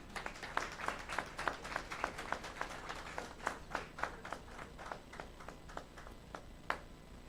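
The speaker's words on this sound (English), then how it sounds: "And a hand of applause, please" Applause at a Namibian energy event follows a ceremonial handshake: a modest crowd clapping steadily, with distinct individual claps audible throughout, moderately close and unaccompanied by talk.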